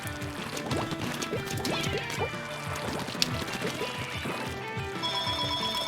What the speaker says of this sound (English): I had to mute that because there was a phone